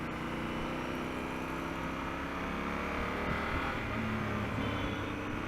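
A Honda Africa Twin motorcycle engine drones steadily while riding in first gear, a continuous close engine hum mixed with broadband wind rush and no talking.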